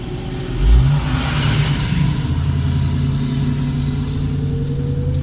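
A car engine revving at full throttle through a newly fitted exhaust, a loud, sustained drone that rises early and then holds steady and close throughout.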